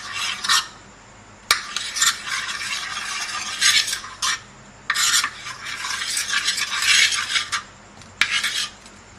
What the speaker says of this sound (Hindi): अब हम एक पैन में इस तरह घी लगा लेंगे।